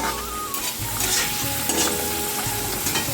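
Pumpkin pieces frying in a pan in a home kitchen, a loud continuous sizzle with stirring and scraping, no voices.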